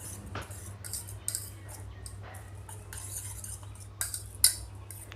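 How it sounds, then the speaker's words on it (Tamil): A fork beating eggs in a bowl, rapid light metallic clinks and scraping in uneven bursts, close and fairly quiet over a low steady hum. "முட்டையை நல்லா அடிச்சுக்கோங்க. ஃபோர்க் வச்சு அடித்தாலும் பிரச்சனை இல்லை"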